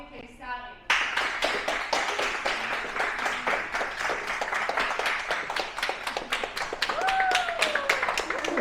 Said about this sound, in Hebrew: קבלו במחיאות כפיים את בורי קיסרי